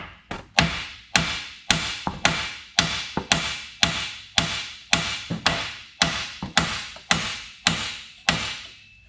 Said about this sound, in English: smacking the side of the control arm here. Or not control arm, but the steering knuckle. And that should shock it so it pops up.